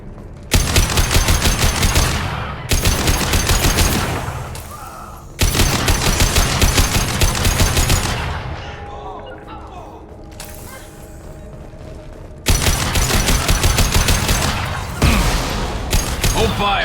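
Long, loud automatic gunfire bursts in a Mass Effect 2 firefight, several sustained volleys separated by short lulls filled with quieter mechanical clatter.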